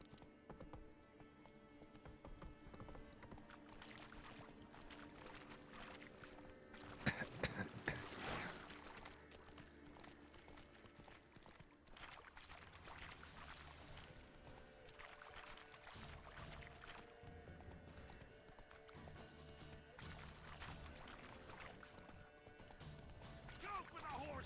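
Hooves of Roach, Geralt's horse in The Witcher 3, in a steady clip-clop gallop that runs throughout, mixed with game ambience and a brief louder clash partway through, while voices speak over it.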